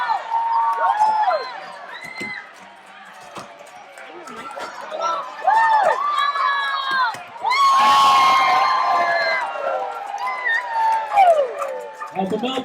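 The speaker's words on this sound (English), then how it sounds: "Cheer these guys on. Help them out." A crowd cheers and whoops at a race during a guided RV caravan tour event in Michigan, with children shouting and a loud burst of cheering midway, while an announcer talks over the noise.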